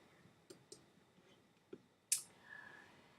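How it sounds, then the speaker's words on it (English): A computer mouse clicks several times, sparse and quiet, with one sharper, louder click standing out near the end against a hushed background. "Clicking on the Activities and Assignments area"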